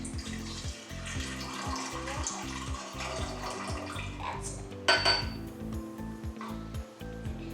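Water being poured into a container for a kid's juice-tasting experiment, a steady close pour with rising gurgling pitch, then a sharp clink of the container near the end.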